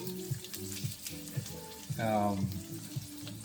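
Eggs frying in a stainless steel pan, a soft steady sizzle under a rhythmic repeating kitchen thump and a brief swell of bubbling, fairly quiet and close with no talk.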